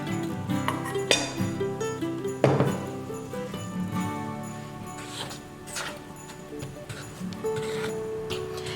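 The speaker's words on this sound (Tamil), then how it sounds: "அடுத்தது இதில் நம்ம கொஞ்சம் கொஞ்சமாக ட்ரை இன்கிரீடியன்ஸை சேர்த்து நம்ம நல்லா மிக்ஸ் பண்ணிக்கலாம்." Dry ingredients being stirred into hot milk vanilla sponge cake batter: a utensil clinks rhythmically against the bowl, close and fairly loud, then the strokes soften into scraping over faint tonal background music.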